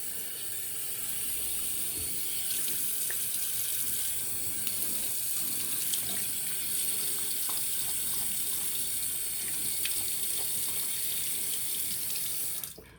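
Tap water running steadily into a bathroom sink as a face is rinsed after shaving, a continuous close hiss and splash lasting the whole stretch, alone with no voices.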